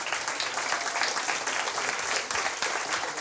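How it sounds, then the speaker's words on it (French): An audience applauds steadily, a dense wash of clapping from many hands that holds for a few seconds. "On peut l'applaudir bien fort."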